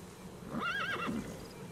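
A horse whinnies once in Metal Gear Solid V, a clear, wavering neigh rising and falling for about half a second against a low game background hum.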